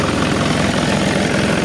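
Isuzu 4HL1 diesel engine running with a steady, rough low rumble and continuous vibration, heard close and alone for a brief moment; the engine has a fuel suction control valve fault.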